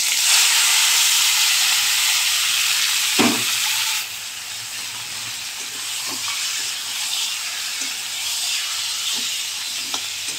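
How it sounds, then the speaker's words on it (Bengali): Chicken sautéing in hot oil with cumin seeds gives a steady loud sizzle and hiss, broken by occasional scraping stirs of a spatula in the pan. "দেখো মাংস কষানো হচ্ছে।"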